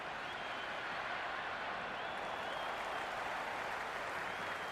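A stadium crowd applauds and cheers during a T20 cricket match between Pakistan and England in the video game Cricket 26, a dense, steady roar of clapping that holds level and loud throughout with no voice on top.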